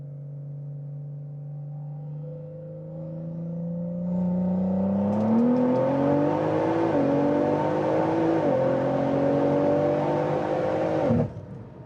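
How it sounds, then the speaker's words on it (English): An 800 hp BMW M340 with a B58 engine and 65 Omega turbo pulls hard in third gear in Sport Plus with traction off, its loud engine note climbing steadily in pitch through the run before cutting off sharply. "So we're gonna do some third gear pulls, Sport Plus, traction completely off."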